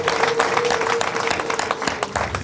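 Guests applaud at a Rwandan wedding dowry ceremony, a brief burst of dense, lively hand clapping heard up close, with a sustained tone running underneath.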